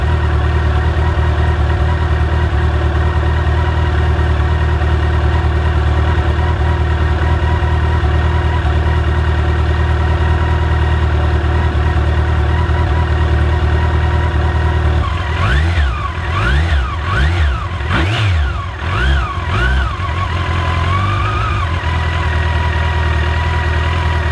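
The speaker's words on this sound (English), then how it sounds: "For an old bike, it sure starts pretty well." An old Yamaha FJR1300 motorcycle engine idles steadily and loudly for about fifteen seconds, then gets several quick throttle blips that rise and fall before it settles back to idle.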